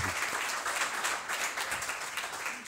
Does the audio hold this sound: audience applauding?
yes